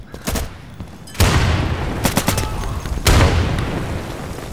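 Gunfire in the tactical shooter Insurgency: a few scattered distant shots, then two loud broadband cracks about two seconds apart, each followed by a ringing tail over a steady ambient bed.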